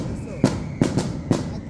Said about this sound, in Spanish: Así frenan sabroso los cohetes aquí.